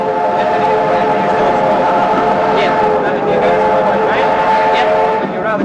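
Vintage train passing at the 1974 Back to Altona celebrations, a loud sustained multi-toned whistle over steady rolling rumble and clatter, close and continuous throughout.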